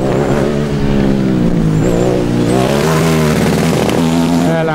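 A Formula Student race car from the Erlangen team at a 2009 endurance event drives past close by, engine loud and revving with rising and falling pitch as it shifts, with no talking.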